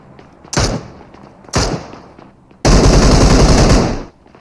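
Gunfire in a video game: two sharp single shots, a second apart, then a loud sustained burst of rapid automatic fire lasting over a second, close and with no talk.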